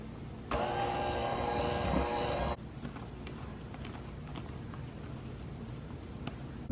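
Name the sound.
electric mixer mixing frosting in a bowl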